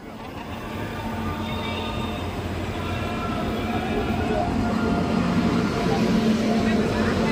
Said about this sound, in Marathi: आमची ट्रेन चालू झाली आणि आमचा प्रवास पण चालू झाला.